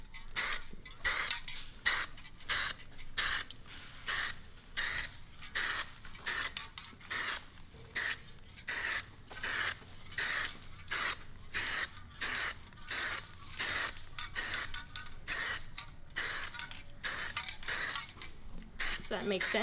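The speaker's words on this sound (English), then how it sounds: "when you're spraying a wheel like this, you can start with, say, doing the barrel" Spray wrap is applied to a car wheel in short, repeated bursts of hissing that start and stop in a steady rhythm. The spraying is close and fairly quiet, and people talk at times in the background.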